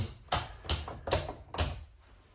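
Four sharp mechanical clicks in a steady row as circuit breakers in a residential electrical panel are switched off one after another, close and fairly quiet with no talking.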